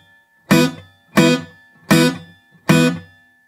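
Four scratchy, muted strums on an acoustic guitar, each a percussive, bright chunk with a quick decay, evenly spaced and played close with no talking, in an acoustic blues style.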